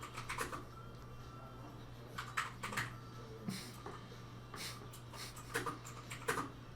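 A very loud computer keyboard clacks in irregular bursts of typing, sharp close keystrokes over a steady low electrical hum.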